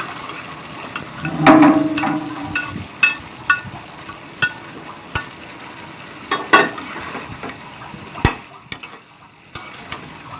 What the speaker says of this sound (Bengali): আমি এখানে দেশি মুরগি কষায় নিচ্ছি আর আগে থেকে ভেজে রাখা পেঁপে আর আলু একসাথে দিয়ে আবারও কিছুক্ষণ কষায় নিব